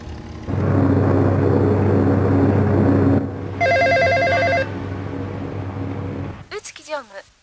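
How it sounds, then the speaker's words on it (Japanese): An old telephone bell rings for an international call from Paris, a single loud electronic trill in a short burst over a constant engine rumble, followed by a voice speaking. "宇月常務、パリから国際電話が入っております"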